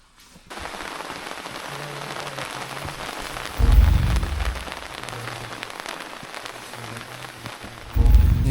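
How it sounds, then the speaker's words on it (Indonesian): Rain falls steadily on a mountain trail on Mount Dukono, a dense pattering hiss on the surface with a couple of louder low rumbling bursts, and no voices. "Ini hujan turun dan kita pakai jas hujan"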